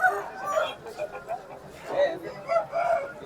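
Several chickens cluck and roosters crow in short bursts nearby, mixed with people talking in a busy rooster market in Gokavaram.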